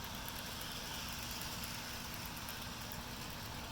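An old 1980s Bachmann Union Pacific 4-8-4 model steam locomotive running at low throttle, giving off a steady, even whirring hum that stays at constant loudness throughout, with no voices.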